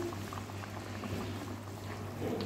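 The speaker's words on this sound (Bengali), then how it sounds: "এই যে একটুখানি আবার মাছের ঝালও বসিয়ে দিয়েছি" A spicy fish curry bubbles on a stove in a home kitchen, a soft, steady simmer with a low hum beneath it and no voices.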